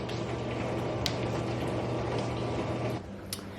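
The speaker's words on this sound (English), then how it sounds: "I never realized how loud my dishwasher was till today." A loud dishwasher runs in a home kitchen with a steady churning whir and mechanical rattle, close and continuous, with faint clicks, dropping in level near the end.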